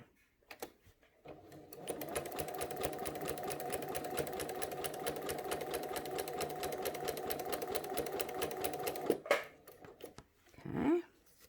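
Sewing machine running steadily while stitching a quilted placemat, a continuous fast mechanical whir with rapid needle chatter lasting several seconds, then stopping, followed by faint handling noises and a brief low sound.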